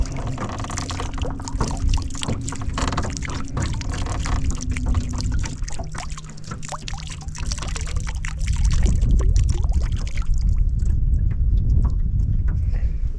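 Water gets poured and splashed out of a container over the side of a fishing boat during a late-January crappie trip, a steady close trickle and splash that grows heavier toward the end.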